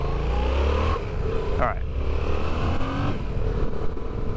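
A 2019 Yamaha XSR700 motorcycle engine revs and pulls while riding, loud and close with shifting pitch as the throttle changes, under a rider's brief speech.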